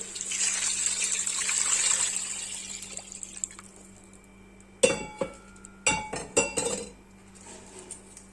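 Water from a large mug pours in a rushing stream into a cooking pot of beef trotters for a few seconds, then fades, followed by several metallic clinks and clanks of the pot and utensils.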